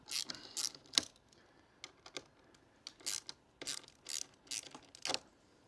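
A hand ratchet loosening the bolts of a sat nav mount on a BMW R1250GSA motorcycle, giving short bursts of sharp clicking separated by pauses, close and clear with no talking.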